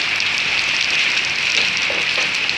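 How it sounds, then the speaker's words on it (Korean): Hail falling on an outdoor surface during a storm, heard as a dense, steady hiss of small pellets pattering continuously, fairly close and even throughout, with no talking. "우박 나 처음 봐."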